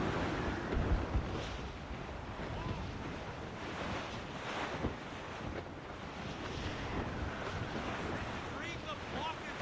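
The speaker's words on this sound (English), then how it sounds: "That wind's trouble, Captain Cormac" Ocean surf and gusting wind in Assassin's Creed Rogue roar as a dense, continuous wash at sea aboard a sailing ship, with a faint voice murmuring beneath.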